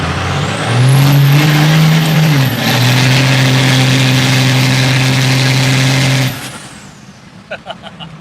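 A Ford Galaxie engine revs hard while driving, a loud close roar that climbs and shifts through gears for several seconds before backing off to a quieter murmur, with a few short clicks near the end.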